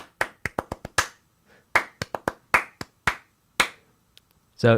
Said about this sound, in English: you could clap the rhythm